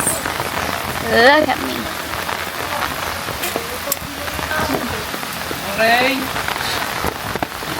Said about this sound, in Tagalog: kasi nalakas ang ulan